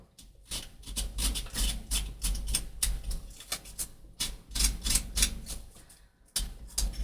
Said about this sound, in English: I'm going to take my scissors and just rough it up